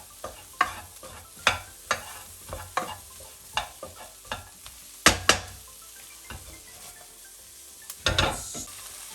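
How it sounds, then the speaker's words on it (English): Mushrooms fry in a pan, with a soft constant sizzle broken by a series of sharp scraping stirs every second or so, close and clear with no talk. "we're gonna give them a quick mix and let them fry a little bit"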